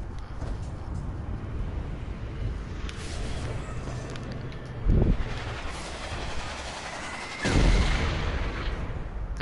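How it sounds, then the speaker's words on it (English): Missiles explode in the Saints Row video game, two heavy booms landing several seconds apart over a continuous rumbling, clattering background of game noise. "There is a missile."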